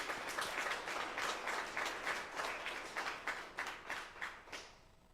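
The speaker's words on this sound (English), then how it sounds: "can we just give them one round of applause to appreciate them?" A conference audience at a future-of-work event gives the speakers a round of applause. The clapping is steady and fairly faint, heard from a distance, and thins into separate claps near the end.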